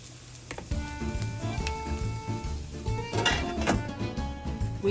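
Onion and garlic sizzle softly in a pan for pork adobo, a steady quiet frying hiss with a few light knocks and clatters of utensils on top.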